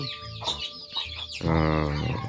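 Chickens cluck close by in a chicken shed, a short burst of several birds calling over one another, growing louder and denser toward the end.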